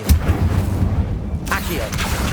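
An Incendio fire spell cast in Hogwarts Legacy, a deep booming burst at the start followed by a rumbling whoosh and a second flare, loud and close over low game ambience.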